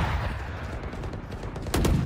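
Gunfire in a first-person shooter game, a dense loud burst of shots running continuously, with a sharper, louder crack near the end.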